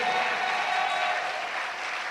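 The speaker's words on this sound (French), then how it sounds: "Give the Lord a big clap of him, big clap of him." Church congregation clapping for the Lord, a steady dense wash of applause held at even loudness throughout, with a faint voice or tone drifting through the middle.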